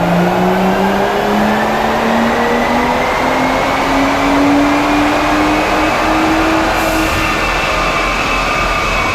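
A BMW i8 engine drones loud and steady, its pitch slowly climbing as it revs up continuously on a dyno.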